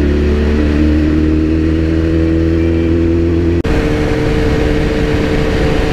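Kawasaki Ninja ZX14R motorcycle on a night ride, its engine droning loudly and steadily at speed, then cutting briefly before a rougher, broader roar resumes.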